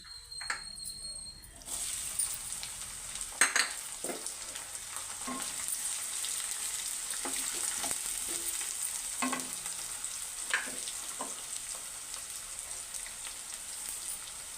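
Onion pieces and green chillies frying in a pan with cumin powder, a steady bright sizzle throughout with occasional stirring scrapes and pops, close and moderately loud, no talking.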